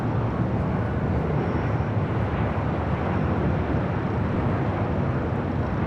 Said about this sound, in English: This is Delta Airlines 1530 coming in from Seattle on a 737-800.